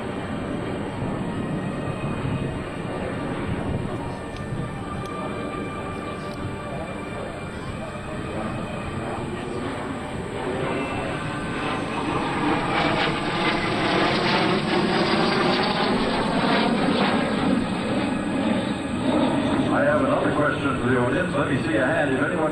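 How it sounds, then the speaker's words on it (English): An airplane flies a loop at a military air show, its propeller engine droning loud and swelling as it climbs and turns, heard beneath continuous announcer commentary over a public address system. "Now performing that classic airshow maneuver, the big loop in the sky."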